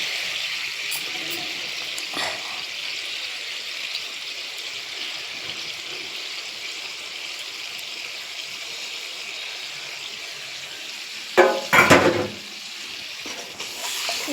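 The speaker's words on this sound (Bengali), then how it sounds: "এবার দইটা দিয়ে দিই।" Yogurt added to spices cooking in a pan for a doi katla fish curry, a steady soft sizzle throughout, with a brief louder burst of sputtering and clatter near the end.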